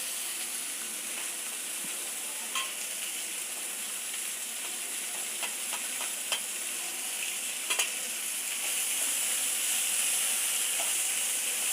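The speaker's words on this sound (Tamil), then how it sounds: "முதல்ல எண்ணெயில் கொஞ்சம் வதக்கிக்கலாம்." Shredded cabbage sautés in oil with salt and turmeric in a pan, giving a steady, soft sizzle and hiss with a few scattered clicks of stirring. No one talks.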